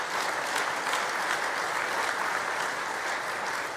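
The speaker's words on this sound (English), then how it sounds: "Please give them a round of applause." Steady, dense applause from an outdoor crowd at a minor-league ballpark groundbreaking ceremony, even and unbroken from start to finish with no voices over it.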